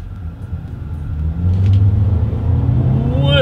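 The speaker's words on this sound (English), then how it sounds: "let's see how quickly we can get this new 2022 Volkswagen Taos here up to speed" A 2022 Volkswagen Taos with a turbocharged four-cylinder accelerating from inside the cabin, a steady low engine rumble building in loudness and pitch as it pulls, with no talking.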